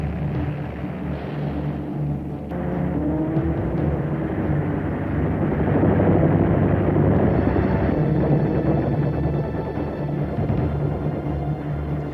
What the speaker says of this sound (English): The conflict between Spitfire and Me-109 was to become a classic of aerial combat.